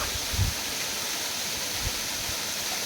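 Spray from a waterfall in the Kolli hills pours down as a soft, even rushing hiss, steady and fairly distant, with a few low thumps near the start and no voices.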